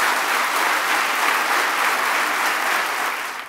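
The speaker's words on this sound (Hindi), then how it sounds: "एक बार हाथ उठाकर जोरदार तालियां बजाइए उस फिल्म के लिए, उस मेहनत के लिए।" Audience applause at a mobile film festival, a dense, steady wash of many hands clapping together for about three seconds before tapering off at the end.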